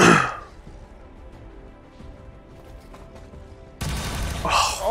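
Gunfire from XCOM 2, with a loud burst at the start and another sustained volley near the end, separated by a quieter stretch of low ambient game sound.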